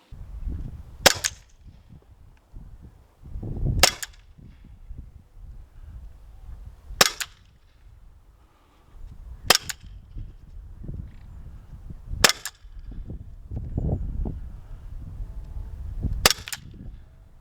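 An Umarex Smith & Wesson M&P 2.0 CO2 air pistol fires six sharp, loud cracks through a chronograph, spaced about two to three seconds apart, with low handling rustle between shots.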